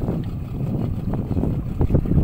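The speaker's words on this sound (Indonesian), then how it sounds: "Dari engine perahu dihidupkan." A small fishing boat's engine running out on the water during a Spanish mackerel trip, a loud, continuous low rumble mixed with wind buffeting the microphone.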